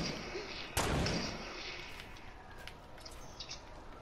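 A single sharp gunshot in Fortnite Battle Royale rings out near the start and decays quickly, followed by faint scattered game sounds at a low level.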